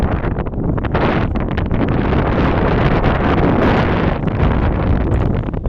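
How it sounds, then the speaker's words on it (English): Strong wind blows across Lake Turkana Wind Farm in northern Kenya, roaring steadily and buffeting the microphone in a loud, unbroken rush with no talking. "The winds here are very strong"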